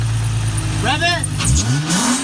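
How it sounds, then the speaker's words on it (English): An Infiniti G35 / Nissan 350Z fitted with a Motordyne test pipe: a loud, deep exhaust drone that swells into a rising rev near the end, with a voice shouting over it. "Rev it! Rev it! Rev it!"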